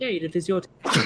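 A person at a tabletop role-playing game session gives a short, sharp sneeze right after someone speaks briefly.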